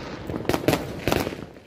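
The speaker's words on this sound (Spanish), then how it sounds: "era posible observar el cielo lleno de fuegos artificiales" Fireworks crack and pop over a city during New Year celebrations in San Salvador. Several sharp bursts arrive in quick clusters against a steady, rumbling background.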